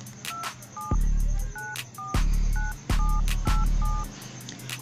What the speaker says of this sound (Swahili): naandika namba yangu ya simu hapa